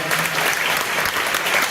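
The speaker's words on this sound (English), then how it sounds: "Let's just give another huge round of applause for our amazing panelists, Kira, Brad, and Alejandra." Dense, steady applause from a conference audience for a panel of three speakers at a schoolyard-themed convening, sustained throughout without a break.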